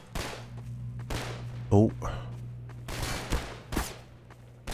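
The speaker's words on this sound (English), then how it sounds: "Oh, I'm getting shot at." Gunfire aimed at the player in Half-Life 2, with several sharp separate shots cracking out over a few seconds above a low steady hum, and a brief exclamation from a man in between.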